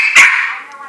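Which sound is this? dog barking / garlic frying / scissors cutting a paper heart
dog barking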